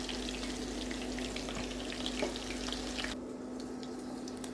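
Chicken pieces fry in hot oil in a pan, a dense, steady crackle and sizzle close by, with a low constant hum underneath, the sizzle dropping partway through.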